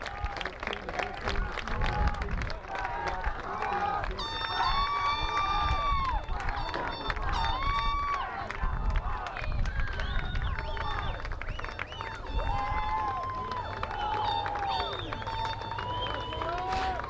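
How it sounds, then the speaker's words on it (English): After a high school state championship soccer match, a crowd applauds in a sustained, dense wash of clapping and cheering, with voices talking over it close by. "Very strong round of applause here."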